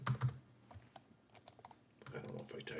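Quick irregular clicks of fingers typing on a computer keyboard, close and fairly quiet, with a short pause before a denser burst of keystrokes near the end.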